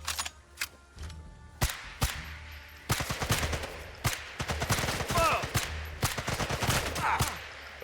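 Gunfire aimed at the player in Sniper Elite 5, a series of sharp separate shots with gaps between them and faster bursts toward the end, loud and near, with some background game sound.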